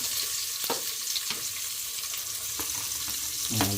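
Onion sautés in a pan for chicken tinola, giving a steady close sizzle with occasional stirring scrapes and clinks.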